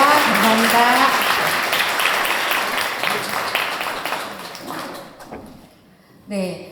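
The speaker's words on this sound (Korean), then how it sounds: "큰 박수 부탁드리겠습니다" Audience applause at an English academy's vision ceremony in Korea, a dense crowd clapping that gradually thins and fades after about five seconds, followed by a brief burst of speech at the end.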